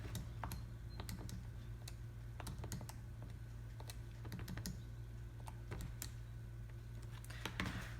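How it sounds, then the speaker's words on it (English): Light keyboard taps entering numbers into a calculator, sparse irregular clicks over a steady low hum, quiet and near, with no talking. "let's go ahead and type that in"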